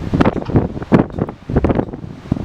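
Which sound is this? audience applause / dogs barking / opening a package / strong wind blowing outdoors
strong wind blowing outdoors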